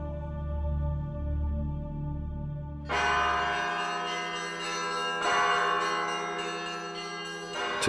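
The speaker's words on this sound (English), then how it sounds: "They conduct services and ring new sets of bells." Church bells ring at the Solovki monastery, a loud, full peal that opens on a sustained low tone. A bright cluster of bells strikes in, with fresh strikes renewing the ringing chord that hangs in the air.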